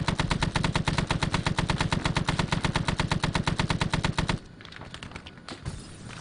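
A Huey door gunner's machine gun in ARMA 3 fires one loud, continuous burst of rapid rounds for about four seconds, then stops abruptly, leaving a quieter ambient rumble.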